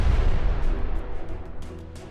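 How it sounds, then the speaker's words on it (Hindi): A blast set off at a tunnel mouth in wartime combat footage from Gaza, heard as a loud deep boom at the start that rolls into a rumbling, fading roar with scattered crackles. "उसके बाद अल कासिम ब्रिगेड्स के लड़ाके सुरंग के मुंह को धमाके से उड़ा देते हैं"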